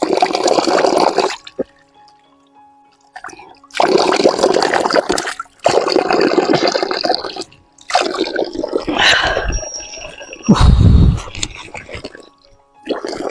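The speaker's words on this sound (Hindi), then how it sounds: "बहुत अच्छा स्रोत है यहाँ पे, और पानी यहाँ से आता है।" Cold water flowing steadily from a mountain spring, a close, loud splashing rush that continues in long stretches while someone talks over and between it.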